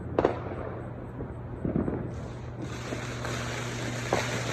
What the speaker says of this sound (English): the fireworks exploded.